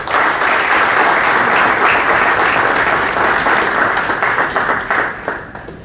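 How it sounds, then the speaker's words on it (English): Loud, full round of applause from a large audience at a business school startup conclave, a thick steady roar of clapping that stays strong for several seconds before tapering off. "Please give him a huge round of applause."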